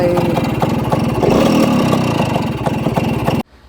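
A Suzuki A100 motorcycle with a fully rebuilt engine idles close by in a quick, even putter. The steady beat holds for a few seconds, then cuts off abruptly near the end.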